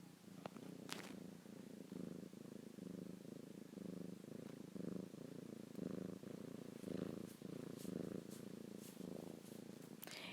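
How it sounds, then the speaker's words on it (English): A domestic cat purrs close up, a steady rhythmic rumble pulsing in regular breaths for the whole stretch, with a few faint clicks and rustles on top. "my cat is purring right now"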